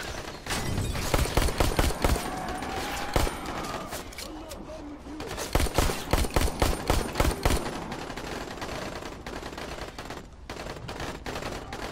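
Rapid gunfire crackles almost continuously through a Dying Light game scene, dense volleys of sharp shots near and far, easing off briefly in the middle before picking up again.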